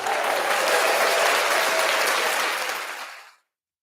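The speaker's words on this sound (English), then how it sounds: "the ones that are, you get a round of applause" Studio audience applause for great moms on Mother's Day during a live sports talk show: dense, steady clapping that holds for a few seconds, then fades out.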